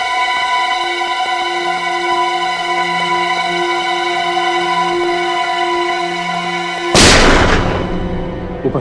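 A single loud gunshot-like burst rings out from a crime-thriller TV episode, sharp and close, cutting in abruptly after several seconds of sustained tonal background music and trailing off briefly.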